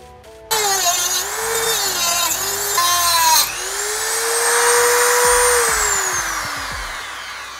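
A power tool cuts a threaded steel rod to make a tiny syringe ram pump. Its motor whines loudly, spins up in stepped surges, then holds a long, steady, slowly sliding high tone as the blade works through the metal.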